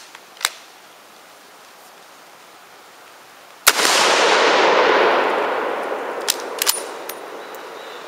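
A 1906 Carl Gustav rifle firing a 6.5x55 cartridge at a WWI US Doughboy helmet gives one sharp, loud report. Its rushing echo decays over several seconds, with a faint click before the shot and light metallic taps after.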